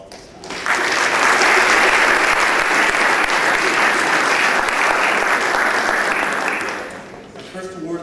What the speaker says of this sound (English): So I'd like to give him a round of applause this time.